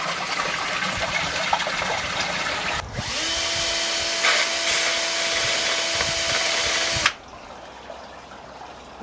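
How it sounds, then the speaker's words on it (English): A power drill bores a hole through a koi pond filter box, a loud steady whine lasting about four seconds before stopping abruptly, with outdoor background noise before and after. "so I've just drilled the hole out."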